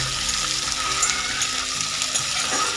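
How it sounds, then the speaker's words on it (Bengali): Thickly sliced onions sizzle in hot oil in a pan, a steady bright hiss of frying that stays close and even throughout, with faint music low underneath. "এবার এগুলোকে সব একটু হালকা লাল করে ভেজে নেব"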